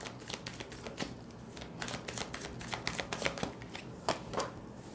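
Tarot cards are shuffled and spread out for a Hindi tarot and candle-wax reading, giving a steady run of close, crisp riffling and soft slaps of card stock with no talking.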